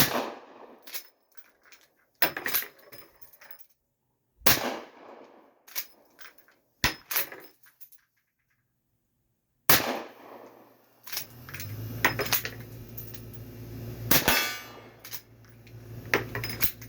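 Gunshots fired outdoors in snow, a series of sharp, loud cracks spaced irregularly with brief silences between, followed by a denser stretch of shots over a low rumbling background.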